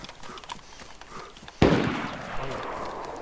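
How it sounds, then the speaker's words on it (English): A single sharp gunshot cracks out in the DayZ Standalone game and rings off into a long decaying echo, with quieter murmur and faint background sounds before it. "There's a serious gunfight going on there."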